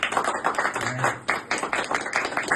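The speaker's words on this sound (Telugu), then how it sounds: "claps ఆపడదు sir, claps ఆపడదు" Enthusiastic audience claps at a company tour-winning celebration, steady dense applause with rhythmic bursts that swell and renew throughout, close and lively.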